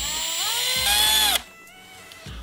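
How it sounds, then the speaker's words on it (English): A power drill bores a hole into the plastic case of a Fisher-Price DJ Bouncing Beats toy, whining loudly for just over a second and rising in pitch as it bites, then cutting off, with light handling knocks afterward. "I'm just going to carefully drill a hole."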